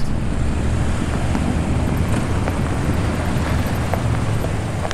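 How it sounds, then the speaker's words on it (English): Several jeep engines approach as a continuous low rumble with a windy, roadway-like hiss, steady and fairly loud, without voices. "stop as they hear engines getting closer"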